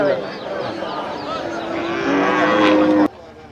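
Cattle low repeatedly at a busy cattle market in Melapalayam, draught bullocks among them, with a long drawn-out moo rising near the end over crowd murmur before cutting off sharply.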